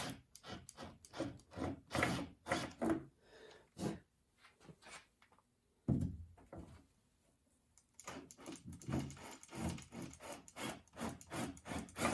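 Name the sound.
drilling out paint-filled bolt holes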